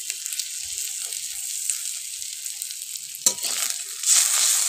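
Onion paste and slit green chillies fry in oil with a bright, close, continuous sizzle that surges with a sharp burst past the midpoint and grows louder again near the end.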